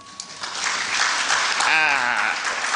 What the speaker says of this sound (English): can you clap for him?